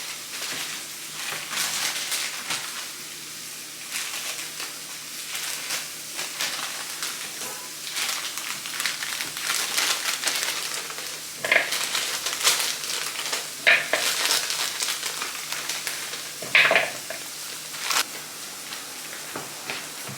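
Beef broth poured into a pot with a pot roast brings a soft, continuous sizzling hiss broken by scattered splashy crackles, close and fairly quiet.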